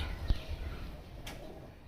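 Pigeons coo softly in a brief, faint murmur, with low throaty calls under steady background hiss and a small knock, no talking.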